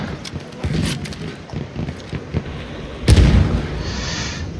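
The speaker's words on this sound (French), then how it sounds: "Petite grenade en dessous" In Battlefield 1 gameplay, a grenade goes off with a loud, sharp burst midway, following scattered gunfire-like pops and game noise, its rumble trailing off afterward.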